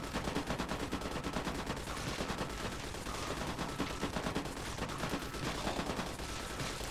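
Automated turret gunfire in Fallout New Vegas, a rapid, steady stream of shots hammering on without pause. It stays dense and loud throughout, with no speech over it.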